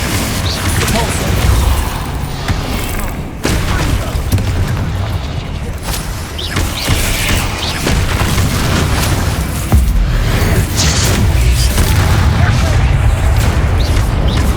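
Repeated spell explosions in the Hogwarts Legacy video game: heavy booms and bursts crowd a busy, continuous combat soundscape, with voices calling out over the blasts.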